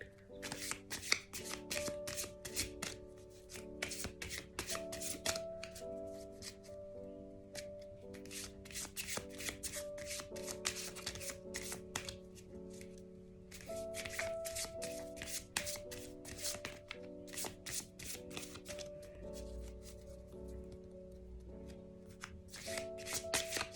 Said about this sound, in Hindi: मैं शफल करना थोड़ा पसंद करती हूँ